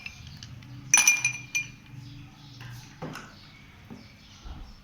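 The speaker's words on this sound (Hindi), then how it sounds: "अब बर्फ़ शामिल करें गिलास में।" Ice cubes clink and rattle into a glass for orange sharbat, a bright crash near the one-second mark followed by a few smaller clinks and settling knocks, close and fairly loud.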